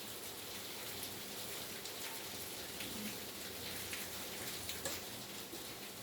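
Rain falls steadily and evenly throughout as a soft, continuous hiss of drops. It is fairly faint and sounds close, with no speech.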